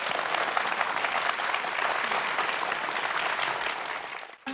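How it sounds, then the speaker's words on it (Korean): Sustained audience applause welcoming a lecturer onto a stage for a talk, a dense steady wash of clapping hands that holds evenly for several seconds before cutting off abruptly near the end. "박수로 먼저 청해 듣겠습니다."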